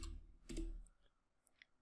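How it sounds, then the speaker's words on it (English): A few crisp computer clicks and light taps on a keyboard, close and sparse, with a quiet room in between. "all we have to do is click inside our criteria and type in North"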